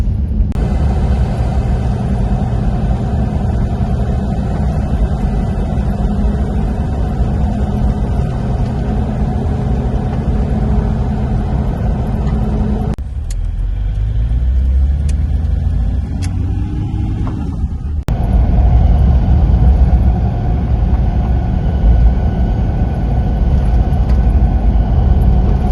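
A car drives along a country road near Mount Perry, its steady engine and road rumble filling the scene, dipping briefly midway before returning louder and continuous.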